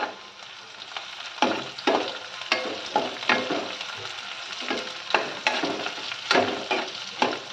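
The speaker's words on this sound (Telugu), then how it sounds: "మనకి ఉల్లిపాయ చక్కగా గోల్డెన్ బ్రౌన్ కలర్ వచ్చేదాకా మనం బాగా ఫ్రై చేసుకోవాలి" Onions, curry leaves and chopped green chillies fry in hot oil for an okra (bendakaya) dish, a steady close sizzle broken by repeated bursts of stirring and crackle, with no talking.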